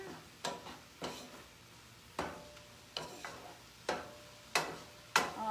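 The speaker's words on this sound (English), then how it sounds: "we're going to mix all this together" Tomatoes and tomato paste being stirred together in a pan, with a series of distinct scraping clicks of the utensil at an uneven rhythm over a faint background.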